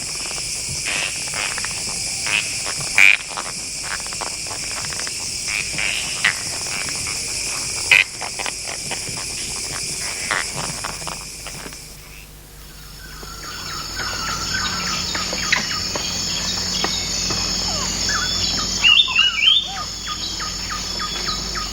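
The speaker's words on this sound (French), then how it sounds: "les crapauds et des milliers d'oiseaux leur offrent la sérénade des nuits de Bornéo" Night chorus in Borneo mangrove forest: dense, continuous calls of toads, insects and many birds, with occasional sharper chirps rising above the steady wash, fairly loud and close, no talking.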